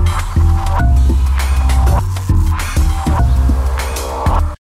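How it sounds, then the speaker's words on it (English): A Mellotron sample loop of a bass idiophone from a found-sound expansion pack plays as a steady, loud, throbbing low pattern of repeated struck tones, with static and small noises running through it until it cuts off. "This is what I've called the bass idiophone."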